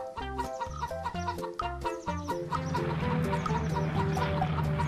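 Cartoon chickens cluck and squawk repeatedly, loud and close, over a busy layer of musical tones.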